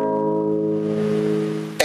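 A major chord rings out in sustained, steady harmonic tones, held clearly and evenly for nearly two seconds before a sharp click at the end.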